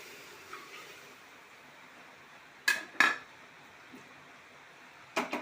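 Cleaned squid going into a pressure cooker in a quiet kitchen: a few sharp metallic clanks and clatters, two close together and another shortly after, against faint background hum.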